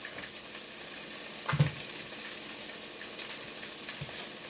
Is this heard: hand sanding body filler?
no